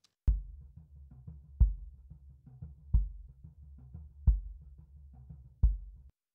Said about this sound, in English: Then a sub kick. This is made from a broken bass cab speaker.